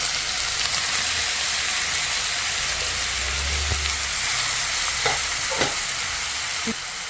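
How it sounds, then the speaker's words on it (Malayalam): Brinjal with a spoonful of oil and a little mustard seed frying in a hot pan, a steady close sizzle throughout with a few faint clinks or pops, no talking. "ഒരു സ്പൂൺ എണ്ണ ഒഴിച്ചു കുറച്ച് കടി ഇട്ടു നമ്മുടെ വഴുതനങ്ങ അങ്ങോട്ട് ഇട്ട് കൊടുക്കണേ"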